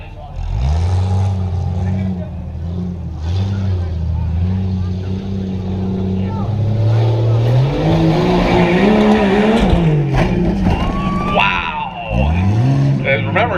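A pickup truck races through a whoops section at a Tuff Trucks event in Chambersburg, its engine roaring loud and close, revving and bogging as it bounds over bumps, with an announcer talking over the noise.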